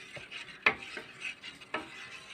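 Biscuit pudding mixture made with coffee powder and Boost is stirred in a pan, giving soft, quiet scrapes and a few sharper clicks of the spoon against the pan.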